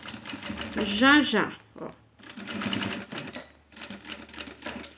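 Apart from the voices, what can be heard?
sewing machine stitching a pocket with flap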